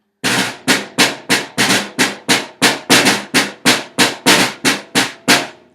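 A snare drum plays a single drag-a-diddle pattern, fast crisp strokes in a steady repeating rhythm with grace-note drags leading each group, loud and close.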